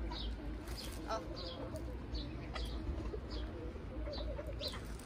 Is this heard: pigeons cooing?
yes